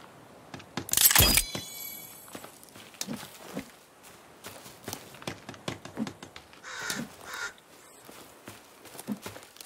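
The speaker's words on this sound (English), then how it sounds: "A crow cawing, not a good sign." In the survival video game The Forest, a crow caws once loudly near the start, followed by scattered clicks, thuds and footstep-like sounds from the game, with no speech.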